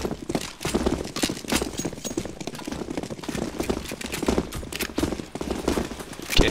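Dense, continuous gunfire aimed at zombies in the video game CS:GO Zombie Escape, overlapping shots and clatter from many players, a steady busy barrage throughout.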